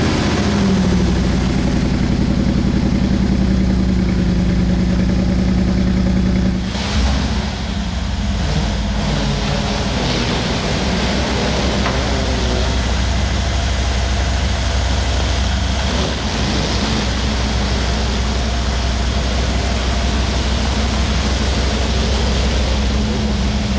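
A Mercedes G63 in Need for Speed Unbound fires up and settles into a deep, steady idle, loud and continuous with a low rumble that shifts slightly after the start.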